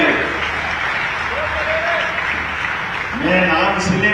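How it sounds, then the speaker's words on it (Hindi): A crowd at a government launch event in Bhopal applauds the dignitaries on stage with a steady wash of clapping, while a voice speaks over it near the end. "जोरदार तालियां बजाए पूरे मंच के लिए"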